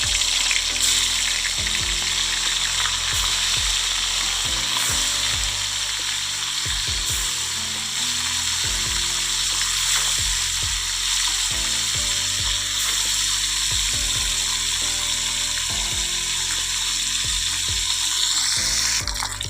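Constant loud sizzling of sea fish frying in hot oil in a wok, with occasional clinks and scrapes of a utensil in the pan.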